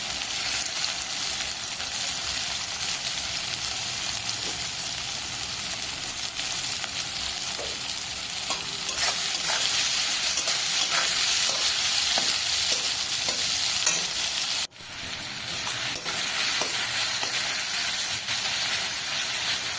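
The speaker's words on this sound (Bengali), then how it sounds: "ওই তেলের ভেতরে আবার কুচনো পেঁয়াজটা আমি ভেজে নেব।" Chopped onion fries in hot oil in a pan, a steady bright sizzle with occasional stirring scrapes that runs for the whole stretch, close and fairly loud, with a brief clatter near the end and no talk.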